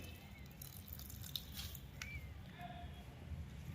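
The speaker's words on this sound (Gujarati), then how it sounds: "સૌથી પહેલાં આપણે કોબીનું પાણી કાઢી નાખીશું" Grated cabbage is squeezed by hand to press its water out while making Manchurian. Faint, soft drips and wet squishes come close up in a quiet kitchen with no talking.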